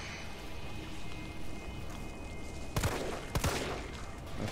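Gunfire from the Resident Evil 3 Remake video game: two sharp, loud bursts late in the clip over a quiet, murky game background, with no talking.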